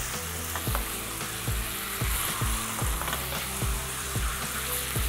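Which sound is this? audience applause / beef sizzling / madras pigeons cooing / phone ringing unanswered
beef sizzling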